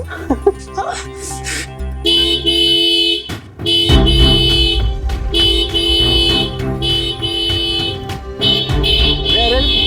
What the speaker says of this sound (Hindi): ये इतने तेज हॉर्न कौन बजा रहा है